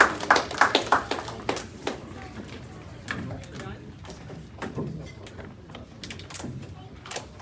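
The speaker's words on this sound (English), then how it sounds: "So give a warm round of applause to welcome George Dele Alade" Audience at a political gathering applauds to welcome speaker George Dele Alade, a burst of close, sharp claps in the first two seconds that thins out into scattered claps and murmuring voices.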